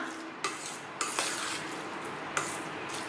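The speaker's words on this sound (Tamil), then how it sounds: "இப்போ எல்லாத்தையுமே சேர்த்து நல்லா கலந்து விட்டுக்கலாம்" A spoon stirs curd into cooked rice for tempered curd rice, with a few sharp clinks against the pot at irregular moments over a soft, steady mixing scrape.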